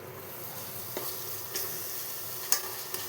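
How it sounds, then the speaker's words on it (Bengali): Onion, garlic and green chilli paste sizzles and fries in oil in a pan at low heat, a soft steady hiss broken by a few sharp stirring scrapes, close and fairly quiet. "এখন এর মধ্যে পেঁয়াজ রসুন কাঁচা লঙ্কা বাটাটা দিয়ে দেবো।"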